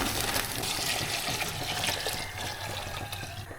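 Papaitan broth pours into a larger pot, a continuous close splashing and gurgling of liquid that fades slightly near the end.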